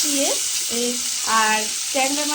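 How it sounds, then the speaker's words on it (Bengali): Eggplant pieces fry in hot oil for a Bengali tangra fish curry, giving a steady, even sizzle that runs under louder tonal, voice-like sounds rising and falling in short phrases. "বেগুনটা প্রথমে একটু লাল করে ভেজে নিতে হবে"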